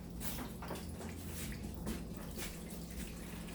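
Hot water poured into a vessel, about an inch and a half deep, a close, steady splashing pour lasting a few seconds without talk.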